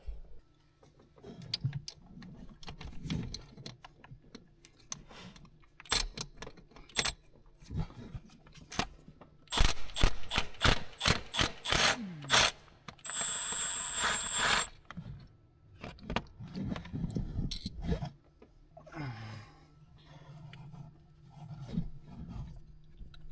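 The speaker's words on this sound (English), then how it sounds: "Can't get the ratchet wrench on them all. These are just 13 millimeters on this bracket." A ratchet wrench works on 13 mm bracket bolts during a Bosch CP4 fuel pump replacement on a BMW X5, with a fast run of crisp ratcheting clicks in the middle among scattered metallic clanks and shuffling.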